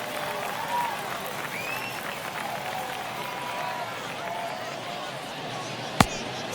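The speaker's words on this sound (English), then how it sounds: "you can feel this crowd waking up a bit here" A stadium crowd murmurs and cheers steadily at a spring training baseball game in MLB The Show 22, a broad wash of distant noise with one sharp crack near the end.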